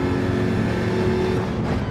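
A Jaguar F-Type race car in a V8 Challenge racing game at Autodrome Lago Maggiore, its engine droning steadily and loudly at a sustained pitch from an onboard view for about two seconds, with no voices.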